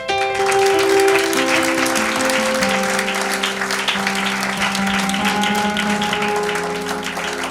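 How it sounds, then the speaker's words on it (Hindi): Loud, dense audience applause at a church ministry gathering, sustained and steady throughout with a musical drone tone underneath, no speech over it. "जोरदार तालियों के साथ।"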